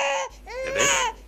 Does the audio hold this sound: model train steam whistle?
no